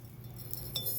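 Water beads spooned into an old glass jar give a couple of light glassy clinks near the end, small and close over a low steady hum.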